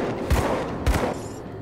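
Two sharp gunshots from the player's blunderbuss-style firearm blasting monsters in the action RPG Grim Dawn, heavy thumping reports about half a second apart over steady background game sound.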